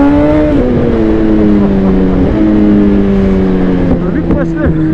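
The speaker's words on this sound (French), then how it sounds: "La moto elle veut que rouler gros. Elle veut que accélérer." A 2020 Suzuki GSX-R 1000 R motorcycle, remapped to 212 hp, droning loudly under acceleration with its engine note stepping down in pitch through gear changes, close and constant over wind noise.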